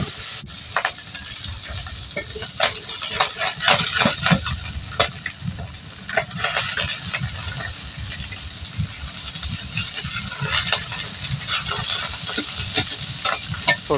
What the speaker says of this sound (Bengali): ভালো করে ভেজে নেওয়া হবে। এখানে দেওয়া হয়েছে সরষের তেল।